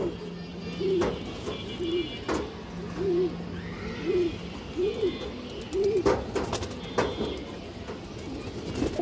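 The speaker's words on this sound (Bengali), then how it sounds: "যে নরটা দেখেন খুবই সুন্দর কবুতর" Pigeons in a loft, several soft throaty coos repeating in a rolling rhythm close by, mixed with wing flutters and small knocks, while someone talks intermittently over them.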